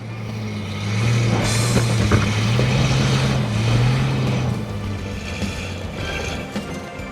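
An off-road vehicle's engine drones loud and strained as it labours up loose sand and gnarly rocks, revs rising and wavering for several seconds without letting up.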